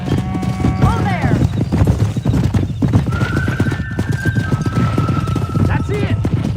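Horses gallop in Red Dead Redemption, with rapid, loud clip-clop hooves throughout, a couple of neighs and whinnies rising over them, and voices shouting between the hoofbeats.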